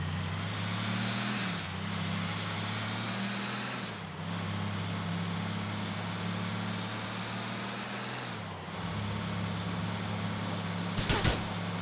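A car drives in Grand Theft Auto IV, its steady engine drone rising and falling through gear shifts, with a brief clatter near the end.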